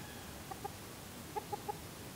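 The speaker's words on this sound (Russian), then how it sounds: "Курица подошла" A few soft, short chicken clucks in a backyard setting where hens peck at a buried rooster, spaced in two small groups over faint background noise.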